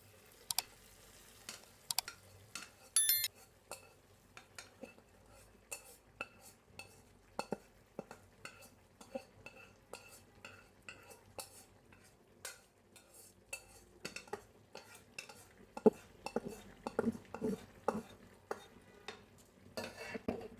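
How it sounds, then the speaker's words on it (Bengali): Fried onions tipped into a pan of lentil dal bhaji as a tempering, then stirred with a utensil: repeated scraping and clinking strokes with a faint sizzle underneath, close and steady throughout, no one talking. "আমি যে পেঁয়াজটা ভাজা ভাজা করেছি বাগারের জন্য সেটা আমি এখন দিয়ে দিব।"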